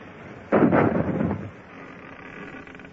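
A ship's cannon fires in a radio drama, a single deep booming blast that rumbles and fades over about a second against a steady background hiss.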